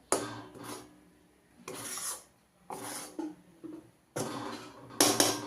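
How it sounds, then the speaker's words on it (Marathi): Besan (gram flour) being stirred and roasted in a pan over a low flame: intermittent scraping and rasping strokes of a spoon against the pan, close and alone, in uneven bursts with short pauses. "मंद गॅसवर आपण चांगलं बेसन भाजून घ्यायचं"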